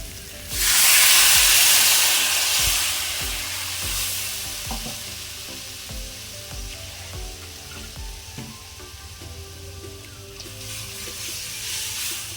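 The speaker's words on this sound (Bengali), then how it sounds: "মশলা আমার কষানো হয়ে গেছে, এর মধ্যে এবার আমি জল দিয়ে দেবো।" Water poured into fried masala in a pan for a koi fish curry with mankochu, bursting into a loud hissing sizzle that slowly settles into steady bubbling, with occasional clinks of a spoon against the pot.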